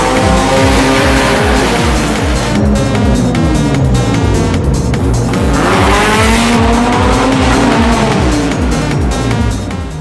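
Honda Civic EG6 drag car racing a rare JDM rival, engines roaring loudly and continuously with rising revs while tires squeal through the run, no talk over it.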